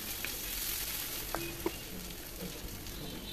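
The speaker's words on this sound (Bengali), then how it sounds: "একটু লাল লাল করে ভাজবো পেঁয়াজটাকে" Finely chopped onion fries in hot oil, giving a steady hiss of sizzling with a few light stirring clinks. The sound is faint and continuous, and no one talks.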